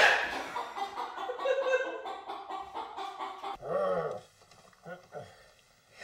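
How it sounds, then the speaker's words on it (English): A chicken perched on a car hood gives a run of rapid clucks, fairly close, followed by a few softer scattered clucks as a voice speaks briefly. "And there's a chicken. Just chilling on the hood of my car."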